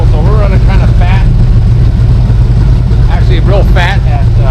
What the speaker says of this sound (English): It's idling really nice. We're idling about 850, something like that.